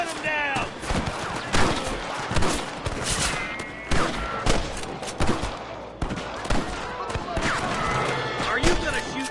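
Red Dead Redemption gunfight with rapid bursts of close gunshots fired in loud volleys, mixed with shouted voices and other game sounds throughout.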